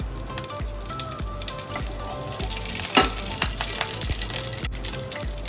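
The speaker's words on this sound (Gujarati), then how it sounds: "એક મોટી ચમચી તેલ રેડીશું અંદર અને થોડી રાઈ ઉપરથી થોડા તલ મીઠા લીમડાના પાન એડ કરીશું" Mustard seeds, sesame seeds and curry leaves crackle in a spoonful of hot oil in a pan, giving a dense, continuous sizzle with rapid popping and one sharper burst partway through.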